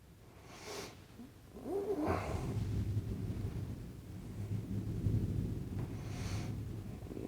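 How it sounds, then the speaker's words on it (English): Low, rolling thunder rumbles through a thunderstorm, a deep continuous swell that builds around the second or third second and lingers steadily to the end, with a brief louder crack near the start and no speech. "All this thunder and lightning going on around here."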